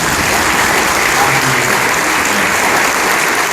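Dense, steady applause from an audience at a teacher and faculty in-service gathering, loud and close, sustained without a break across the whole stretch.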